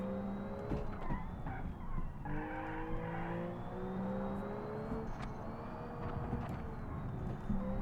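A Group A Geo Metro rally car in the BeamNG driving game runs with a thin turbo whistle over its buzzy engine, tires skidding and squealing repeatedly as it is driven hard, no talking.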